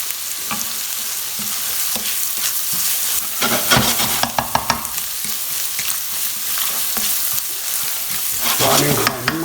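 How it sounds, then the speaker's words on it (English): Chopped ginger and garlic fry loudly in a pan for a chickpea potato curry, with crackling sizzle, spoon scrapes and several sharp clacks near the middle. "So I'm chucking in the ginger and the garlic, but it's chopped."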